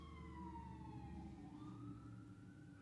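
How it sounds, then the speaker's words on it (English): A faint siren wails in the distance, its pitch sliding down and then rising again over a low rumble of traffic. "y'all hear the sirens?"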